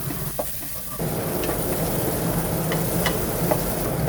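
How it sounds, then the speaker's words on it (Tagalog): Tomato paste goes into a pan of frying garlic, and the steady sizzle jumps louder about a second in, then keeps up a constant, close crackle with faint stirring ticks and no talking. "nagtira lang ako ng konting bawang at ilalagay ko na dito yung aking tomato paste"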